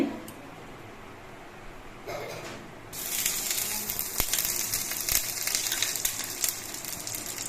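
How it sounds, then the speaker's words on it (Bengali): Ghee heating in a kadai on a gas stove, a soft steady sizzle and hiss that rises and fills out partway through, close by with no talk. "একটা ওভেনে আমি কড়াই বসিয়ে দিয়েছি কড়াইতে দিয়ে দিচ্ছি ঘি"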